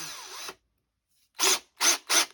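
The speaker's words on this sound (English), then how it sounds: "gonna drill on here" A power drill bores into a small part for a 1:200 Trumpeter RMS Titanic model ship in four short, loud whirring bursts: one at the start, then three quick ones after a silent pause.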